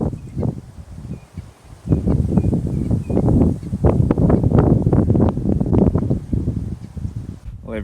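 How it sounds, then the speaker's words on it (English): Wind gusting through bush leaves on a windy morning in the Manyeleti reserve, a loud, steady rustling roar with surging gusts and buffeting against the microphone. "The wind's picking up"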